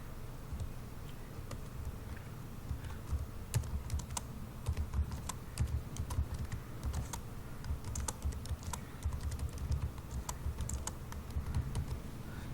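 Rapid, irregular taps on a mobile phone's on-screen keyboard while text is typed, close and fairly quiet, with no voices.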